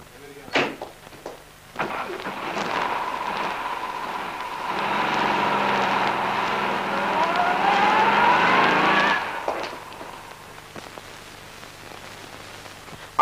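A car on a 1960 test drive gives a sustained engine drone that rises in pitch as it accelerates, with clunks and door-like knocks before and after the run and a rising whine near the end.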